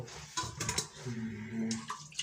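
Milk pouring steadily into a blender jar of fruit for village-style juice, a soft continuous liquid stream with brief splashy bursts, fairly quiet and without speech.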